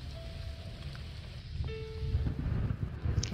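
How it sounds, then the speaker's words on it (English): Thunderstorm with rain in the video game The Cat Lady: a steady low rumble under a soft rain hiss, swelling slightly louder toward the end, with a few faint tonal game sounds on top. "I think there's a big storm coming."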